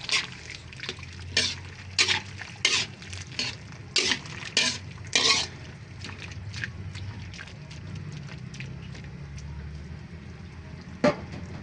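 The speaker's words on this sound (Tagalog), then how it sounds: "Haluin lang po natin yan." A spoon stirring pork and broccoli with soy sauce in a pan, giving a run of clinking scrapes in uneven bursts over a soft sizzle, then quieter with one last sharp knock.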